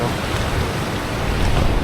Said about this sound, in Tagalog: Halos ganito malakas yung hangin.